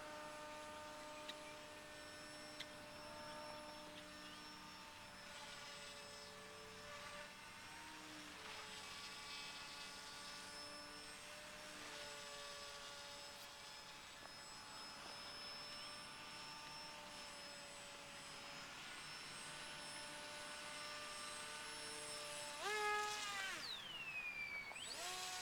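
Radio-controlled Wild Hawk model airplane with a rudder gyro in flight, a steady high buzzing motor drone that holds fairly even, then swells and pitches sharply near the end as it passes, with no talk.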